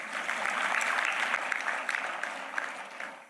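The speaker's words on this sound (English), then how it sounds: "please clap for that." Steady audience applause fills a school annual day celebration at a girls' school, dense and moderately loud, swelling slightly and then tapering toward the end.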